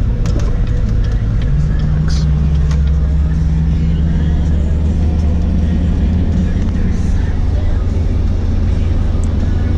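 A 2019 Chevrolet Corvette ZR1 accelerating hard in third gear: a loud, steady engine roar that steps up in pitch early on and keeps pulling strongly throughout.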